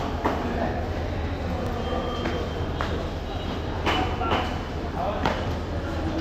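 Kanchenjunga Express train standing at an Indian railway station, a steady rumbling hum with intermittent clanks and squeaks of railcars, station bustle and voices in the background.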